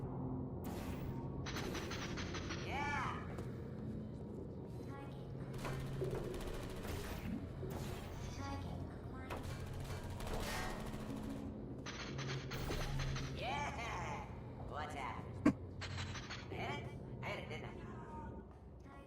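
Turret fire in Portal 2 arrives as repeated short mechanical bursts and clicks, spread across the stretch at moderate loudness beneath frequent talking, with one sharp loud snap near the end.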